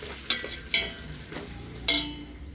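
Turmeric being stirred into paneer biryani gravy brings three or four sharp scraping strokes of a spoon against the pot, spaced apart, over a light sizzle.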